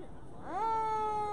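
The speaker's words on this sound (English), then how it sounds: "you can hear the sirens in the distance" A siren at a street parade in Des Moines, Washington, sweeps upward and then holds a steady wailing tone, moderately loud and somewhat distant.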